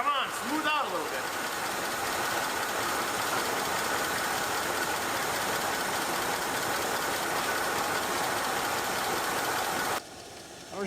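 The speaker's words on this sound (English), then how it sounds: "The exhaust is amazingly quiet, but it's not very smooth." A 1969 Mustang engine, abandoned for 32 years, idles unevenly close by, a continuous knocking rumble with an irregular beat over a quiet exhaust, then cuts off abruptly near the end.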